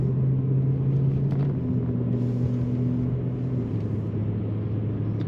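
A 2013 BMW M3 Lime Rock Edition with automatic transmission cruises steadily, its engine a continuous low hum inside the cabin whose pitch drops slightly as gears change, with no talking.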